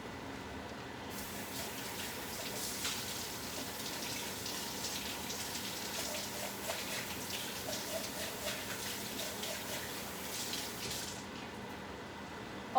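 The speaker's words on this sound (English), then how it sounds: "let's get water going here because we need water going like" Water runs from a kitchen tap in a steady hiss for about ten seconds while a pot fills for cooking rice, fairly quiet and continuous with no one speaking over it.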